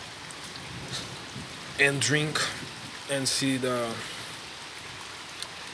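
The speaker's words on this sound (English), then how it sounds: "water of the rain dropping." Steady rain falls on an evening, a continuous patter and hiss throughout, with someone speaking briefly over it in the middle.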